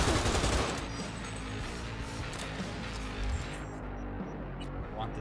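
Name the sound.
gunfire from the player's gun in the video game Cyberpunk 2077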